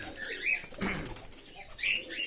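A quick burst of wing flapping from a pigeon close by, a couple of brief flutters with light chirps around them.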